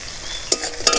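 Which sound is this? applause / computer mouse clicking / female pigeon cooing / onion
onion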